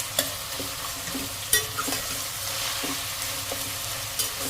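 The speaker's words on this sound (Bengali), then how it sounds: "পেঁয়াজটা ভালো করে প্রথমে ভাজতে ধৈর্য নিয়ে ভালো ভাবে লাল লাল করে ভাজার পর বাকি প্রসেসটা রান্না হবে" Onions for mutton curry, with a little sugar added, fry in a pan with a steady, moderate sizzle, broken by sharp spoon scrapes and knocks as they are stirred every second or so.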